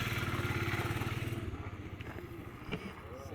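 A repaired motorcycle on a hard adventure ride revs nearby with a pulsing engine drone, then fades as it pulls away, leaving faint outdoor background and light clatter.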